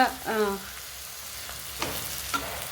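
Chana masala cooking in a pan at home, a soft frying sizzle with a few stirring scrapes and clinks, fairly quiet and steady, with a short voice-like tone near the start.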